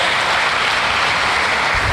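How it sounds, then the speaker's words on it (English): A dense, steady wash of applause from a large audience at an indoor event, loud and continuous with no talk over it, as one unbroken round of clapping. "Can you give yourself another big round of applause?"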